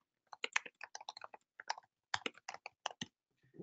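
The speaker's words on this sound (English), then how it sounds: "And then if we were to continue typing here" Rapid keystrokes on a computer keyboard while filling in custom fields in document automation software, a quick burst of close clicks, a short pause, then another run of crisp taps trailing off.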